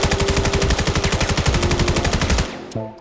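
Rapid automatic rifle fire in a VR video game, a fast even stream of loud shots lasting about two and a half seconds before stopping, followed by a brief mechanical click.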